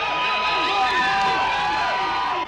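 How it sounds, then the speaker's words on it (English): Football fans in a sports bar and grill cheer during Super Bowl XXVIII, a dense crowd roar with whoops and shouts that is steady throughout the clip and drops off sharply at the very end. "sending fans at Randy White's All-American Bar and Grill into a cheering frenzy"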